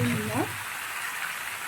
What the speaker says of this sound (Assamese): এইখিনি মই ভালদৰে ভাজিম